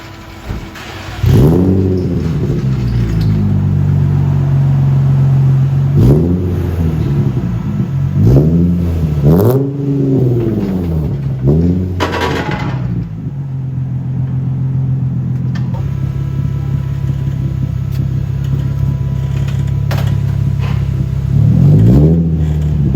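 An Infiniti G35 engine revs repeatedly through a loud aftermarket muffler, deep rumbling bursts rising and falling, then settling into a steady throaty idle before one more rev.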